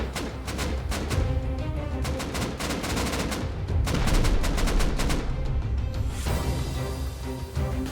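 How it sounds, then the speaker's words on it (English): Rapid repeated gunfire and explosive bangs during a base raid in Rust, a dense stream of sharp cracks and booms, loud and continuous with a rumbling tail at the end. "More rockets going off while they finish off the loot rooms"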